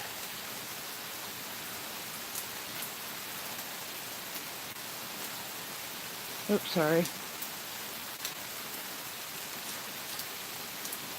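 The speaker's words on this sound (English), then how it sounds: "We're watching the rain." Steady rain falls on a city street, a continuous soft hiss of drops on wet pavement filling the scene, with a brief spoken apology cutting through near the middle.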